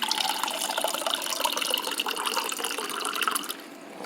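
Spring water is poured from a large container into a pot of sautéed wild-caught shrimp shells for a bisque. It makes a close, steady splashing gurgle for several seconds, then stops abruptly and leaves only faint quiet.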